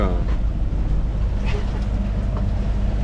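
Sailboat motoring under engine power at sea between Porto Pollo and Ajaccio, heading into the wind, a steady low engine drone with wind and water noise, continuous and close.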